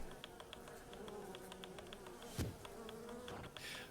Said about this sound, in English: it's just bees. buzzing